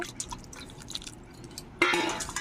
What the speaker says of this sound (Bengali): আমগুলো ধুয়ে আমি জলটা আরেকবার পাল্টে নেব